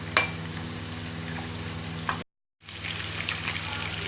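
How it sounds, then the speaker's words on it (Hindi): Potato chicken cheese rolls frying in a pan, an even, continuous crackling sizzle with a low hum beneath, one small clink at the start, a short gap of silence midway, then the sizzle resumes. "ये देखिए कितने अच्छे से फ्राई हो रहे हैं।"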